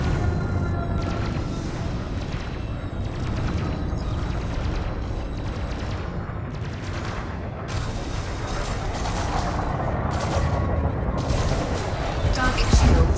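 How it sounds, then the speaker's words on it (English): A huge ship cannon fires repeatedly in the Elite: Dangerous space game, a rapid series of heavy booming blasts over a continuous loud rumble, with no pause between shots. "I can attempt to hit them with my huge cannon from over a kilometre, well, about 4 kilometres away"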